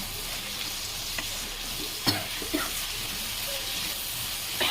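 Chopped onions frying in a pan for flaxseed chutney, a steady sizzling hiss with a few soft scrapes and taps of a spoon stirring, close up and without talk.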